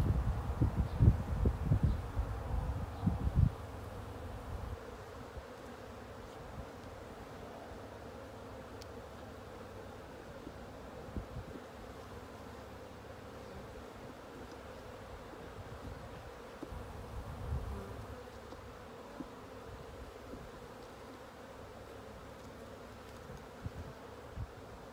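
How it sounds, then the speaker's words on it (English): Bees buzz around a beehive during an early spring hive inspection, a steady low drone lasting throughout. Handling noises and rustles are close by at the start. "My gosh, the bees are like everywhere."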